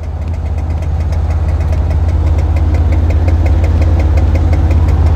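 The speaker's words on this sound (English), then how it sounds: "almost immediately the engine knock came back" A car engine idles with a rhythmic metallic knock, loud and close, a steady low rumble with evenly spaced ticking taps throughout.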